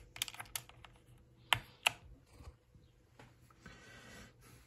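Typing on a Logitech G513 Carbon mechanical keyboard with GX Blue clicky switches: a quick run of sharp, close clicks, a couple of louder distinct strikes midway, then softer, denser keystrokes, with no voice over them.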